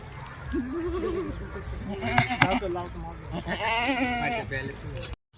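Kathiawadi goats bleat repeatedly at close range, several wavering cries overlapping one another, with someone talking over and between the calls.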